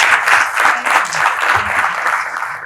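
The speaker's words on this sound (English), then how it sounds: "Please let's clap for them again." Audience at a finance summit applauding panelists, a dense sustained wash of clapping throughout, loud and close, with no one speaking over it.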